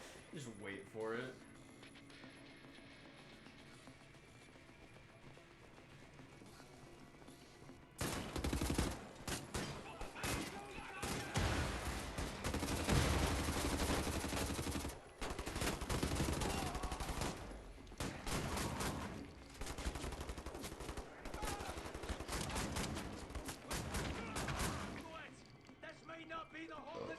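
Rapid gunfire bursts from the video game Wolfenstein: The New Order, loud and sustained after a quiet opening, with heavy automatic fire and impacts continuing under players' voices.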